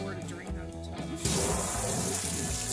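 Water draining out of a rock tumbler tub with silicon carbide grit, a sudden loud rushing pour that starts partway in and keeps splashing steadily, with a voice talking before it.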